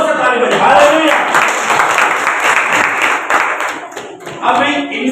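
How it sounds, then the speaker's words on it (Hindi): An audience at a church sermon claps loudly and steadily, with the preacher's voice speaking over the applause. "जोर से ताली बजाओ।"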